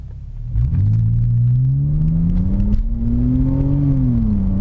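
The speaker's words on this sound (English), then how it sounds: "Now let me sport mode on. Let me do a takeoff." A BMW E60 5 Series launching hard in sport mode, its engine roaring loudly up through the revs from close inside the car, the steady drone rising and shifting pitch with no talk over it.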